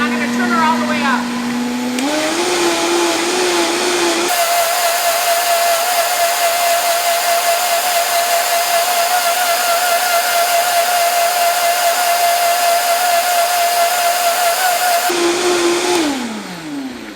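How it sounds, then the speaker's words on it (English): Vitamix blender blending celery for juice, motor whining up through two speed steps before holding a loud, steady high-speed roar with a sustained pitched hum for about eleven seconds, then spinning down at the end. "Now she's spinning. I'm going to turn her all the way up."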